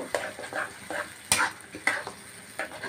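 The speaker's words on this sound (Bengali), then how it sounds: "দিয়ে দেব টক দই দিয়ে দেবো মরিচের গুঁড়ো এক চামচ এখন মশলাটাকে আমি একসঙ্গে কষিয়ে নেব" A spice paste with nut paste, yogurt and chili powder frying in a pan for egg korma: quiet sizzling broken by several distinct spatula scrapes and stirring knocks at a close, uneven rhythm.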